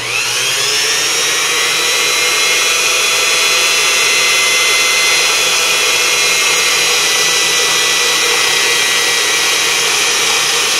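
A small Unimat SL1000 lathe takes a shallow cut on 416 stainless steel, its motor whining loud and steady with a continuous high cutting hum and no talk.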